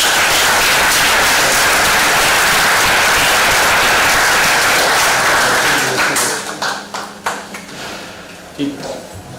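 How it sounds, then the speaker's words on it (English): Dense, loud audience applause at an international engineering conference on IC engines, propulsion and combustion, filling the room for about six seconds before breaking into scattered individual claps, with a voice speaking as it ends. "can we have a big round of applause,"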